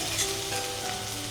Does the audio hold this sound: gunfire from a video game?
no